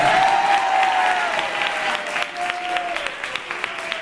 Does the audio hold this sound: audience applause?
yes